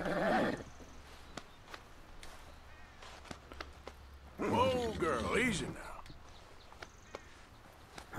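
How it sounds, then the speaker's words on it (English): A large horse in the video game Red Dead Redemption 2 gives a loud whinny partway through, with soft hoof clops and sparse thuds around it, and a quiet voice murmurs now and then. "It's a big horse."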